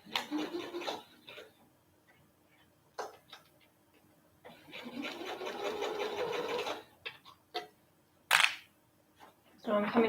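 A sewing machine stitches a Remy raglan seam in short runs: a burst, a brief tick, then a longer steady whir of several seconds, with a few small clicks and a final short burst between pauses.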